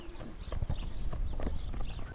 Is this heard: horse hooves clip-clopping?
yes